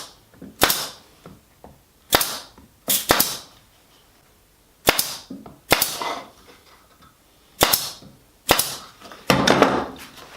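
A small staple pin gun fires into a wooden box, giving sharp, loud snapping cracks that come singly and in quick pairs with short pauses between, up close with no speech.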